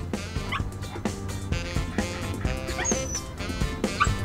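A German Shepherd in the Petz Sports PC game gives several short game barks and yips, steady and close over continuous background game music.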